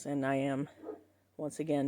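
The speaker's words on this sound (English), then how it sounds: "You're going to have to excuse my dog. He's just barking at everything that he hears outside lately." A pet dog barks indoors at noises outside in a loud harmonic burst, pauses, then barks again, with a person talking between the barks.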